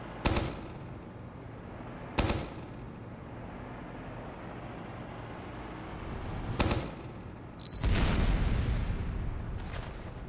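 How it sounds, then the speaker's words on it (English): A Demoman's sticky bomb launcher in a video game fires a handful of sharp, spaced launches, each a short thump, with a louder rumbling burst near the end over a steady low background hum. "if you longer you hold down your fire key, the further you'll fire the sticky"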